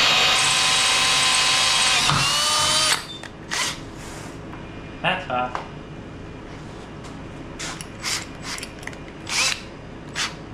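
A power drill bores holes in steel front bumper brackets for a 1936 Ford Roadster custom, whining loudly and steadily for about three seconds before stopping, followed by scattered clinks and tool handling with talking underneath.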